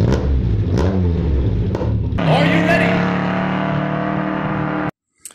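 A short intro jingle built around a car engine revving up, with rising, loud engine tones that swell into a fuller, brighter blast before cutting off abruptly near the end.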